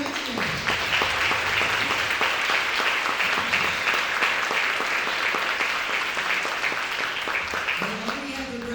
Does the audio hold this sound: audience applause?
yes